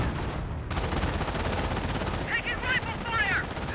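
MG42 machine gun fire from a Company of Heroes battle rattles on in dense, continuous bursts, loud and close, with brief voice fragments over the top.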